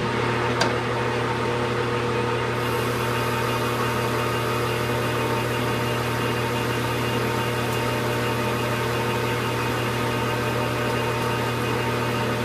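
Metal lathe turning at 460 RPM with a carbide insert taking a 30 thou cut, producing a steady, continuous machine hum and drone throughout with no pauses.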